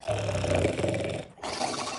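A human voice imitates a monkey snoring, giving a raspy, growling snore drawn out for about a second, a brief pause, then a second rough snore.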